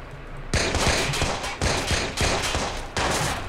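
Rapid bursts of automatic machine gun fire in the video game Watch Dogs, loud and close, crackling in several volleys with brief gaps between them.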